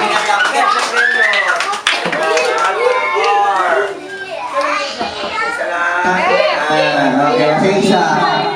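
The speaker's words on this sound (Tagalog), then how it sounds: "palakpak naman dyan" Guests clapping at a birthday party, steady loud applause mixed with children's chatter and playful voices throughout.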